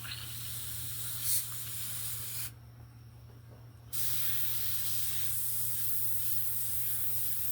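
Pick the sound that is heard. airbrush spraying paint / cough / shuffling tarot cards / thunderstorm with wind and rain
airbrush spraying paint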